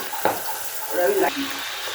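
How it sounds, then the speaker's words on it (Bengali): Big fish pieces dropped into hot oil hiss and spatter in an uneven burst, with sharp pops and crackles rising and falling over a low steady sizzle, close and moderately loud. "তেলের মধ্যে ছেড়ে দিলাম এটা একদম বড় বড় মাছের পাতরি বাবা রে কি তেল ছিটকাইতেছে রে"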